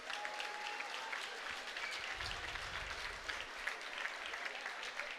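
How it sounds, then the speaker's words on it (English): A crowd at a kickboxing event applauds two fighters after their bout, a steady wash of distant clapping and crowd noise throughout. "a round of applause for two great fighters"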